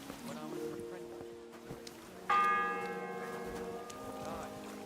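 A church bell in the medieval game Kingdom Come: Deliverance II strikes loudly and rings out with a long, shimmering decay, following a stretch of low tonal game sound and distant activity.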